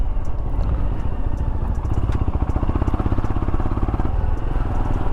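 A Royal Enfield Himalayan motorcycle pulls away on a road trip near Kodaikanal, its single-cylinder engine thumping steadily and loudly close by, with a rapid rhythmic putter throughout.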